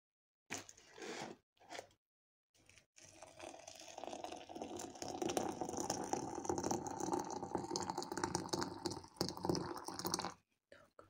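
Liquid is poured into a pot in a steady, close splashing stream for several seconds, with short bursts of clatter before and after.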